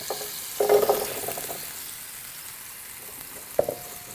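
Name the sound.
potatoes sizzling in a pan deglazed with wine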